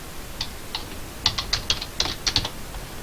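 Quick bursts of keystrokes on a computer keyboard as an email address is entered into an online payment form, with clustered clicks at an uneven rhythm, close and clear with no talking.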